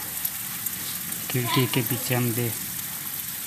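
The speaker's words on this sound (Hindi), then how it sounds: "आप सब देख सकते हैं बारिश हो रही है" Steady rain pours down behind a village house in Gujarat, a constant hiss filling the whole stretch while someone talks briefly over it.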